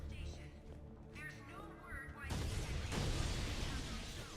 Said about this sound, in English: God, explosions.